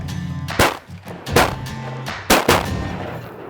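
Several loud, sharp shotgun blasts ring out in quick succession while hunting ducks over a deep pond, with a couple of reports close together near the end.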